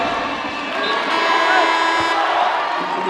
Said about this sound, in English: Look at the crowd right there.